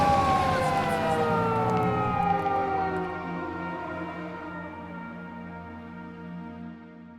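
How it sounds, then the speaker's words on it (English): A police siren in the video game Yakuza 5 wails loudly at first with rising and falling tones, then gradually fades as it lingers in the background. "the pair's moment together getting interrupted by police sirens"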